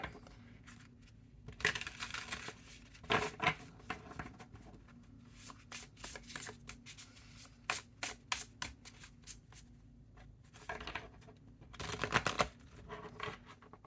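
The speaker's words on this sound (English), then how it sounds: "Now we're just going to shuffle the cards" Tarot and oracle cards are shuffled by hand in soft, irregular bursts of riffling and slapping, close and fairly quiet, with short pauses between rounds and no voices.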